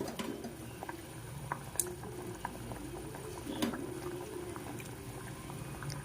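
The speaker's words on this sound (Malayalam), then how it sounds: "നമ്മുടെ കറി നന്നായിട്ട് തിളച്ച് വന്നിട്ടുണ്ട്" Fish curry bubbling steadily in a pot, a continuous low simmer with small pops and occasional sharper ticks, fairly faint and close, with no talking.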